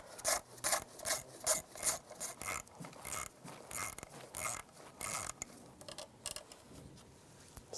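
A 10mm socket on a ratchet works the bracket bolts loose on a Cadillac DTS engine, giving repeated close rasping clicks in uneven bursts.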